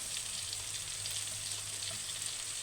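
Garlic sizzles and fries steadily in a hot pan for shrimp pasta, a close, continuous crackling hiss with no pauses and no voices.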